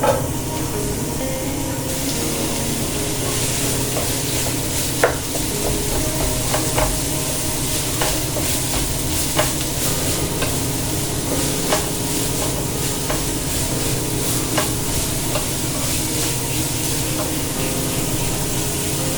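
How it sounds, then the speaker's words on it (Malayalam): Chopped ingredients sauté in coconut oil in a hot pan, a steady close sizzle with scraping spatula stirs and occasional sharp clicks throughout, no voices. "നല്ലോണം വഴറ്റി കൊടുക്കണം."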